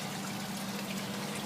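Water pumped from a buried 50-gallon tank into a grow tank in a West Texas hydroponic greenhouse, a faint, steady trickle and pour with a low pump hum underneath.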